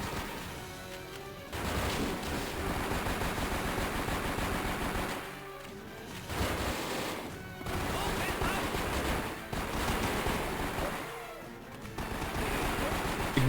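Long bursts of rapid gunfire from the Nintendo DS game 007: Blood Stone, broken by short pauses, with a voice talking over parts of it.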